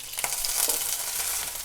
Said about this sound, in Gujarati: હવે મેં અહીંયા મીઠા લીમડાના પાન લીધા છે, એ એડ કરીશું। વઘારને મિક્સ કરી લઈશું